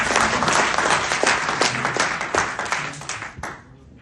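Steady, close and loud clapping from an audience at a motivational meeting, dense and continuous for about three seconds before tapering off.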